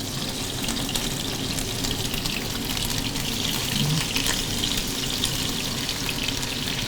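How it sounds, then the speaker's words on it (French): Marinated meat fries in hot oil, a dense continuous sizzle and crackle with spattering, steady and close throughout. "on laisse la marinade et là on fait frire la viande"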